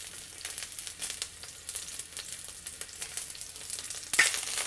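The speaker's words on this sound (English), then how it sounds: "We'll fry them until they are fragrant." Thinly sliced ginger and white parts of spring onion fry in hot oil, a steady close sizzle with scattered crackles and light stirring taps, jumping louder near the end.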